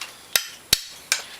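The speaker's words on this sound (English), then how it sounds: "I'm gonna have to have a hammer again to tap this down." Three sharp, evenly spaced hammer taps ring out close by as a part is driven onto the rear brake shaft of a Honda Recon 250 ATV, each metallic strike decaying quickly into quiet.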